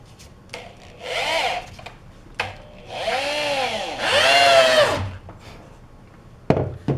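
Power drill driving screws into 2x4 wood for a trebuchet build, loud close whining bursts with rising pitch, two main runs of about a second each, punctuated by clunks and knocks, no talking.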